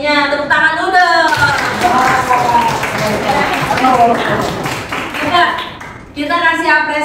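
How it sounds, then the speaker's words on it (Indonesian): A high-school class at SMA Global Mandiri bursts into lively applause after a group presentation in an Islamic education lesson. A teacher's voice is heard just before and after the clapping, with voices mixed in. "Tepuk tangan dulu dong."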